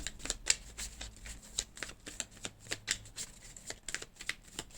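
Tarot cards shuffled and drawn by hand, a soft, quiet run of rapid riffling flicks and papery snaps in an uneven rhythm, close up with no voices.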